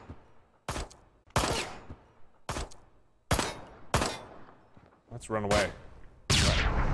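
Gunfire from shooting a barrel in the video game Road to Hell: Retribution: several loud, sharp shots at uneven intervals, with people talking between them.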